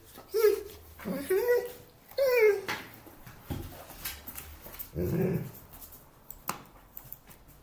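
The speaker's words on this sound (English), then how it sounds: "So that was the dog." A dog yelps and whimpers in short, high-pitched bursts near the microphone, with quieter shuffling and breathy sounds between the cries.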